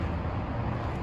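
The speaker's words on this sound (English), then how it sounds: "But you can probably hear the traffic behind me." Steady road traffic roars behind a campground at Deer Creek State Park near Wallsburg, Utah, a continuous low rumble of passing cars with no break and no voices over it.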